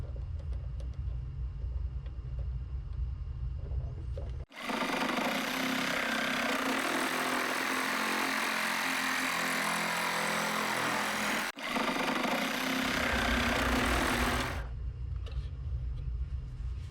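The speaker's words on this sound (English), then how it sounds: "So I'm going to take that to my lathe and cut off that shoulder." A metal lathe cuts the shoulder off a Husqvarna snowblower shear pin, a steady loud grinding whir of about ten seconds with a brief break, with quieter machine hum before and after.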